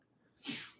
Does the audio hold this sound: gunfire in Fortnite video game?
no